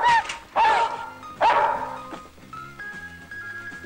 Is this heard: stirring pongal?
no